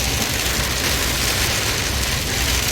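Heavy rain pours steadily outdoors during a mowing day, a loud, dense, unbroken hiss with no pauses and no talk.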